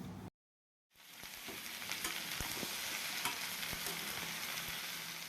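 Ridge gourd and potato pieces fry in a pan with a steady, close sizzle that starts after a brief moment of silence and continues evenly.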